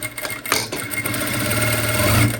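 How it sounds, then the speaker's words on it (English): A sewing machine runs steadily as it topstitches around the curved armhole of a summer flare circle dress, a close, continuous mechanical whirr with fast light clatter. "So now I will top stitch it."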